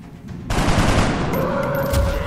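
Sustained burst of gunfire in XCOM: Enemy Unknown erupts after a brief quiet lead-in, a loud dense volley that holds steady for about two seconds, with a ringing tone trailing under it.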